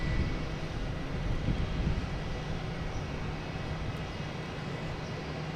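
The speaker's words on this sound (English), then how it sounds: "A321 coming in from Orlando." An Airbus A321 airliner arriving at Logan Airport from Orlando gives a steady, broad engine roar that holds loud and even throughout, with no talk.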